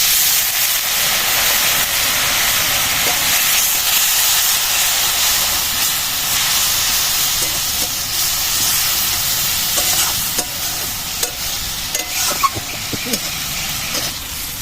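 A spice masala of chili powder and a little water sizzles and steams in a pan, a continuous loud frying hiss with occasional stirring clinks toward the end.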